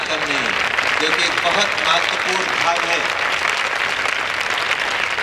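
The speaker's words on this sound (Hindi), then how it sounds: "एक ताली" Congregation at a Christian crusade festival in Kanpur claps together in sustained, dense applause, steady and fairly loud throughout, with voices faintly audible underneath.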